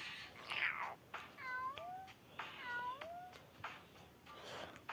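Several cats meow one after another, close and fairly quiet, some calls sliding downward in pitch, with small rustles in the gaps.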